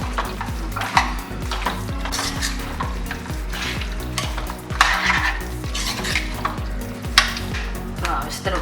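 Mutton head curry sautéing in a pressure cooker, with constant sizzling and repeated scraping stirs of a metal spoon against the pot, close and fairly quiet, with occasional clanks.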